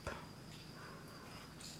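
Young crickets chirping inside a plastic breeding box holding egg cartons, a faint steady high trill running throughout, quiet and close, with a soft rustle at the start.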